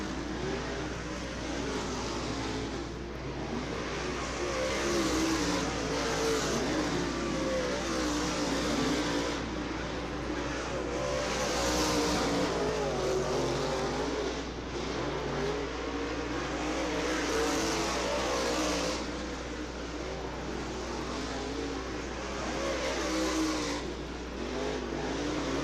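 Modified race cars roaring around Ocala Speedway during Modified Week, a dense, continuous engine drone with rising and falling revs as cars pass, loud and steady throughout.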